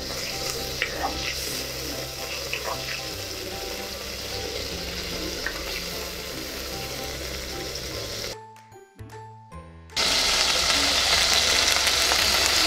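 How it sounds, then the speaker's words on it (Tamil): Prawns seasoned with salt, chilli powder and lemon juice frying in a pan, a steady close sizzle that drops away briefly and then returns louder and hissier. "நாம இத கொஞ்சம் கொஞ்சமா ஃப்ரை பண்ணி எடுத்துக்கலாம்"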